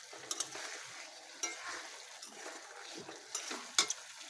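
Potatoes with green chillies sauté in a spice mix in a pan, heard as quiet stirring scrapes and occasional sharp metallic clicks over a faint sizzle, with no talking.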